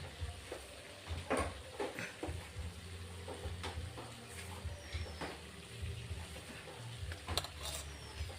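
Spices and Kashmiri chilli powder fry in a pan for a katla fish curry with taro, a soft, low sizzle broken by scattered scraping stirs and occasional sharp clicks, quiet and close.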